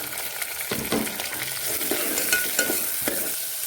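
Onion fries in hot oil with cinnamon, cloves and garlic for a tomato rice dish, a loud, dense sizzle right up close with light stirring scrapes, and no voice.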